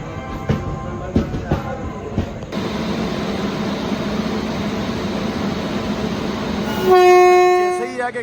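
A train hauled by a WAG 9 electric locomotive pulls into a station platform, with clanks and rumble building to a loud, sustained horn blast near the end, and voices around the platform.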